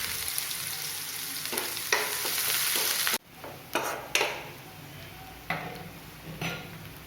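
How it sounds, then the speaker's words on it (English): Chopped onion sizzles steadily in hot oil in a pan, a dense continuous frying hiss with a brief break and a few sharp clicks and stirring knocks, close and fairly loud with no talking. "Once the oil is hot, add the chopped onion. Cook the onion for about 2 minutes."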